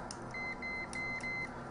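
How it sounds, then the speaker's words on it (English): A continuity tester beeping while checking a wire run in a recess behind a tube, giving several short high electronic beeps in a quick irregular series, close and clear, no talk. "So just want to prove with the beep test"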